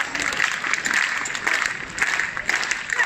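An audience at a Birmingham homecoming event for Commonwealth Games athletes claps steadily and fairly evenly, a dense patter of many hands with faint crowd noise underneath.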